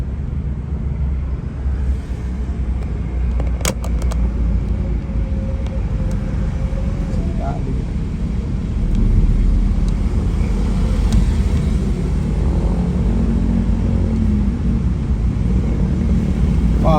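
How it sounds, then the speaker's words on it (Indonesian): Jammed road traffic on Jl. Kapasa Raya in Makassar: a steady, low engine rumble of idling and creeping vehicles that swells slightly midway, with faint clicks and no talking. "Wow, di depan macet ini depan."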